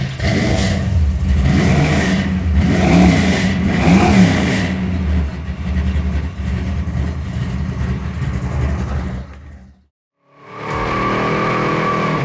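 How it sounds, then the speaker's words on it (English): A high-horsepower 1971 Chevelle SS big-block V8 roars loudly and steadily under hard acceleration on a test drive, then cuts out abruptly before the engine note returns, close and dominant with no talking. "then test drive this very high horsepower 1971 Big BLock Chevelle."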